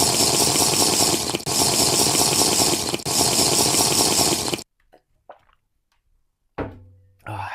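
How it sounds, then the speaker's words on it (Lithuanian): A cold shower running in a bathroom, a loud dense hiss of spraying water in bursts that stops abruptly, followed by quiet knocks and faint movement. "Toliau mane 7 laukia šaltas dušas"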